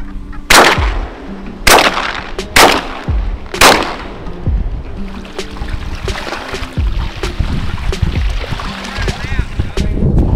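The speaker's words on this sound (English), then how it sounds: "we're going to stay right here and try to shoot a few more brants" Four sharp, loud shotgun blasts ring out in quick succession while duck hunting for brant geese, followed by rustling, splashing and movement with scattered voices nearby.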